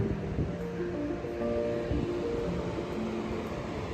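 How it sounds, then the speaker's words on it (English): Running water outdoors in Elora, Ontario gives a constant, rushing wash of sound with some wind noise, steady and fairly loud with no voices. "I could listen to the sound of running water all day."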